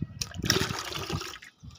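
Water poured quickly from a container into an emptied garden plant pot, a steady splashing gush lasting over a second close by, tapering off briefly before a short second splash.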